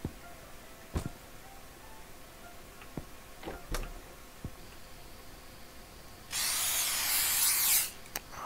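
A broadband hiss of a spray can in The Convenience Store video game, used on rats, bursting loud and steady for about a second and a half after scattered faint clicks and ticks, with no talking.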